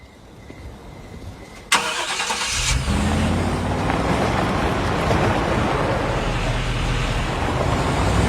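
A car in a film starts with a sharp crank, then its engine revs and roars as it pulls away, the deep rumble growing loud and staying close, with no talk.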